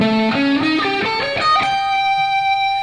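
Electric guitar notes plucked one after another in a rising arpeggio, each ringing into the next, with the final note sustaining and fading.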